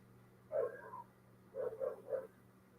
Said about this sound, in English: I hear the neighbor's dog.